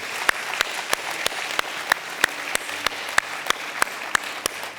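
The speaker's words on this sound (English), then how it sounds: "let's applaud the name of the Lord to celebrate what's just happened" A church congregation applauds during a worship service, a wash of clapping marked by sharp, evenly spaced beats, probably rhythmic clapping or a drum, at a steady tempo throughout.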